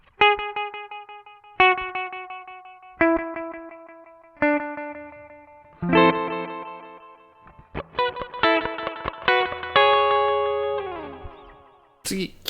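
Guitar played through a BOSS RE-2 Space Echo pedal, with plucked single notes and chords ringing out, then denser strumming that gives way to repeating, smeared echoes and a wash of ambient decay.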